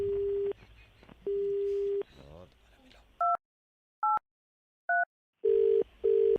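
A telephone line drones with steady tones after the caller hangs up, broken by short beeps, then a stretch of silence and the tone returning, with brief speech in the middle.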